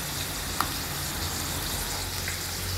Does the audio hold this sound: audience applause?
no